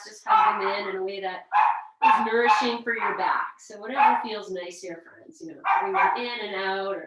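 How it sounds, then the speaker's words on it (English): Dogs bark indoors, sharp yelps popping up repeatedly beneath a woman's calm, continuous instruction during a home exercise session. "I don't know if you can hear my dogs barking."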